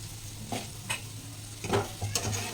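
Chili powder being stirred into an egg curry in a pan, a soft sizzle under a few scraping spoon strokes against the pan, close and moderately quiet.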